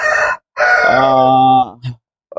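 A Peruvian rooster crows loudly and close, a short call followed by a long drawn-out crow, then a brief cluck from a chicken, on a large farm.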